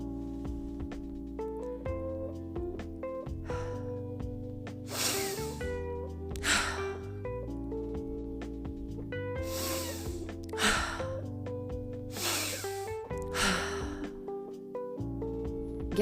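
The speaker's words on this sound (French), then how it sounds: "On inspire par le nez, profondément, et puis on va forcer au niveau de l'entrée et de la sortie en contractant le ventre" Breathwork session with deep inhales through the nose and forceful, belly-driven exhalations, several sharp breath bursts at irregular intervals over a steady sustained musical drone.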